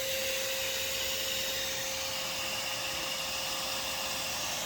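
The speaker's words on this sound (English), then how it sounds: "I'm still catching a lot of foragers, so just let it keep vacuuming up" A vacuum runs steadily at an underground yellow jacket wasp nest, sucking up foragers with an unbroken whining roar and a fixed pitched tone, constant and unvaried, with no voices.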